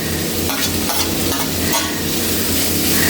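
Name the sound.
cabbage, capsicum and carrot sautéing in a pan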